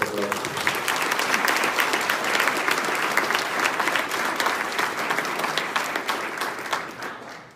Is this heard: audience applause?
yes